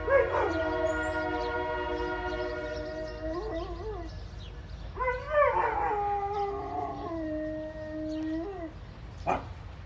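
A train horn sounds in long, sustained blasts, and a dog howls along with it in wavering tones, the horn returning after a short pause.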